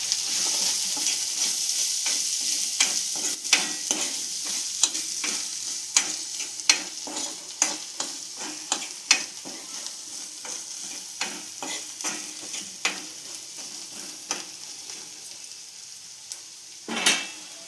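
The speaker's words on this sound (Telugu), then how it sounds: "అలాగే కొంచెం కారం వేసుకుందాం నేను ఒక్క స్పూన్ వేసిన కారం మంచిగా కలుపుకోవాలి" Chili powder being stirred into an egg puff filling frying in a pan, with a steady sizzle under repeated spoon scrapes and taps against the pan, and a louder clatter near the end.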